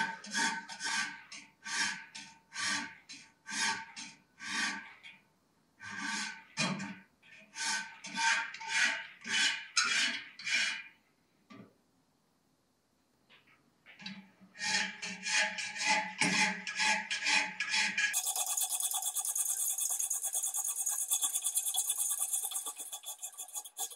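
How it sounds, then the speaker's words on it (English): A hand file worked along the bevels of a drop point hunting knife blade, with bursts of close, rhythmic rasping strokes, a brief pause midway, then a continuous harsher scraping at the end. "adjust the file accordingly to get the bevels as evenly as possible"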